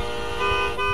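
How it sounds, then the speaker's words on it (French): A car horn in the racing game Forza Horizon 3 blares in a steady, loud, sustained honk lasting about a second, with its pitch shifting slightly partway through and no talk over it. "Est-ce que vous avez changé votre klaxon?"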